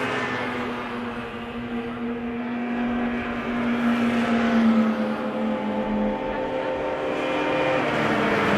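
Several vintage racing snowmobiles, including a 1975 John Deere sled, race toward a close finish; a steady, loud layered engine drone with a strong low hum holds throughout, swelling slightly near the middle and staying dense to the end.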